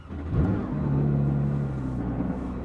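A Porsche 911 992 S/T engine cranks and starts, catching with a sharp rise and then settling into a steady, loud, close idle rumble.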